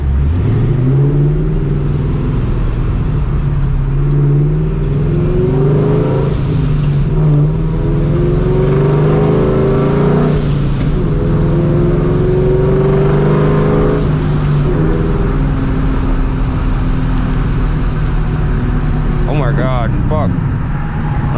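A supercharged New Edge Mustang GT pulls hard from 30 to 100 mph, its engine note rising steadily through the gears from inside the car, loud and sustained, with a voice speaking briefly near the end.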